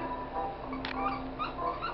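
A dog whimpers indoors in a few brief, high, thin whines over a quiet background hum, sounding close but soft.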